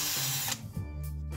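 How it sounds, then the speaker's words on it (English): A power drill bores two small breather holes in the top of a homemade coolant overflow tank cap, giving a short, close whine that drops into a lower hum as the bit works through. "We're going to drill two little breather holes right here in the top."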